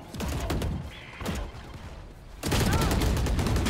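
Gunfire during a Valorant esports match between Bilibili Gaming and RNG: rapid bursts of shots that swell into a louder, sustained volley near the end, sharp and close.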